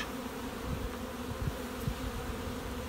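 Honey bees buzzing around a brood frame during a hive inspection, a dense continuous hum with the drone of individual bees passing close now and then.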